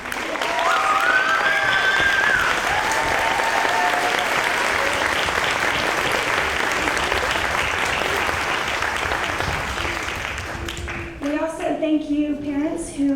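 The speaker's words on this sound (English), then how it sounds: "Would you please stand so we can give you a round of applause?" A graduation ceremony crowd gives teachers a sustained round of applause, dense and loud with some cheering and voices mixed in, thinning out near the end as talking takes over.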